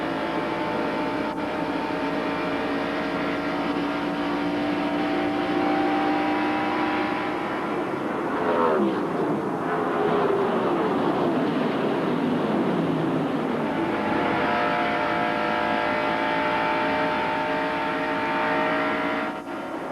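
Onboard a 1989 stock car at the Atlanta Journal 500, with the loud, steady engine roar held throughout and a swelling surge of noise midway as the car passes or shifts; no voices.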